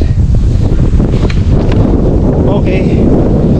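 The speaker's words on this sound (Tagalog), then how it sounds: "medyo mahangin siya" Steady wind blowing across a hilltop tourist spot on Palawan, with broadband buffeting on the microphone that stays loud throughout and no talk over it.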